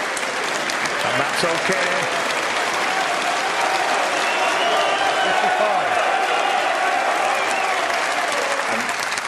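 Loud, sustained crowd applause at the UK Championship snooker final, with Ronnie O'Sullivan facing Ding Junhui, rolling on continuously for the whole span while a commentator talks over it.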